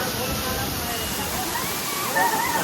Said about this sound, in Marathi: धबधबा खाली पाणी जाते